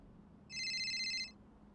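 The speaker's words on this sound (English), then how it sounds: "Guys, we're getting a phone call." A phone rings once in a GTA V FiveM roleplay server, a brief bright electronic trill lasting under a second over a low background hum.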